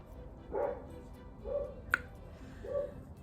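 Dog barks sounding at a moderate distance, three muffled woofs spaced about a second apart with a brief sharp tick between them, over a quiet room background.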